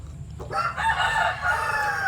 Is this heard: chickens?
yes